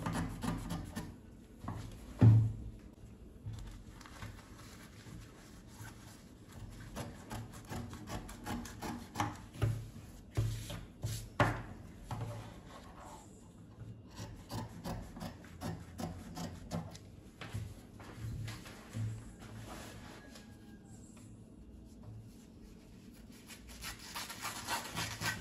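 Scissors cutting dress fabric along the shoulder slope and armhole, soft rhythmic snips and rubbing rasps close by, with occasional handling thumps and no talking.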